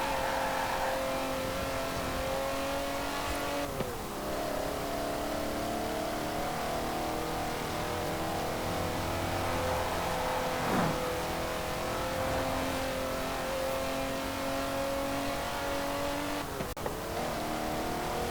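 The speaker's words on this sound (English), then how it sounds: "So yeah, it's a lovely sounding engine." A 1995 BMW 850CSi's engine in Forza Horizon 4 revs steadily through the gears, pitch climbing and dropping with brief shift breaks, a continuous smooth drone up close with no voices over it.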